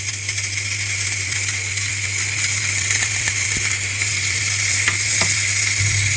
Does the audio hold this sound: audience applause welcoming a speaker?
no